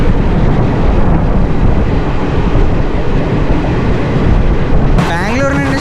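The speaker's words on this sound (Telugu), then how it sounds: "ఇదిగోండి ఇప్పుడు ఈ ట్రైన్ కూడా స్టార్ట్ అవుతుంది" Kacheguda Express train running on the Yelahanka to Kacheguda route, heard from inside a 2AC coach as a loud steady rumble that rolls on throughout, with a voice joining near the end.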